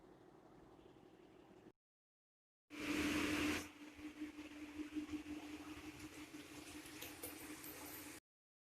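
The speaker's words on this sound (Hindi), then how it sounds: "और इसको ऑयल में अच्छी तरह से फ्राई कर लेंगे।" Washed bitter gourd fries in hot oil, a steady crackling sizzle that starts abruptly with a loud burst and then settles into a continuous bubbling hiss, fairly close and unaccompanied by talk.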